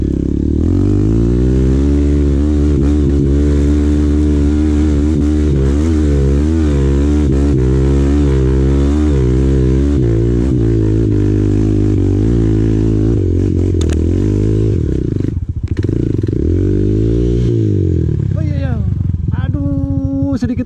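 A trail motorcycle labors up a long, steep climb at an off-road event in Kalimantan. Its engine drones loud and close, revving up and down in wavering surges for about twenty seconds, with a few sputters near the end.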